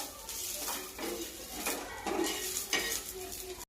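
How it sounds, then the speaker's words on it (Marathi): Bombil (Bombay duck fish) frying in a little oil on a tawa, a steady close sizzle with scraping stirs and spatula clinks against the pan, no talking. "ह्याच तव्यामध्ये आपण आता बोंबील थोडे तळून घेणार आहोत"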